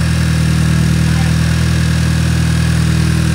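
A Mk5 Jetta SportWagen with a K04 turbo engine runs in a loud, steady, close drone with no clear rise or fall in revs and no speech.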